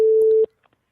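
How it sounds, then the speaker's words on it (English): A steady tone from a live Skype call, held loud for a bit under half a second before cutting off, followed by near silence with a couple of faint clicks. "you're going to hear the ringing in the background, of course, because this call is live"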